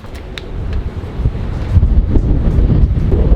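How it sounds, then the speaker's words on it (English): Strong wind on a cruise ship deck buffets the microphone with a continuous low rumble that swells louder partway through; no one speaks. "It's really windy."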